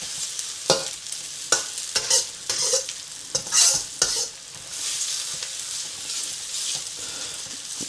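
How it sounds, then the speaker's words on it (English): Onions and spring onions stir-fried for chicken chow mein, with repeated scraping stirs and clacks over a steady sizzle, close and fairly loud. "But we're just gonna keep constantly stirring those in. Just mixing those onions and the spring onions in."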